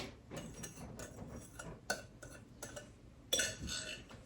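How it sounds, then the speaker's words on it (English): Ingredients for loaded fries are stirred together in a dish, a spoon scraping and clinking against it in quiet, irregular bursts close by, with a couple of sharper knocks. "Just mix all this around."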